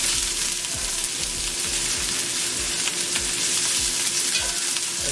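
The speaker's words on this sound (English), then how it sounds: "I'm actually gonna move these onions off to one side and let them cook" Onions frying in a pan over a medium gas flame, a steady close sizzle with repeated scraping stirs throughout, no voices.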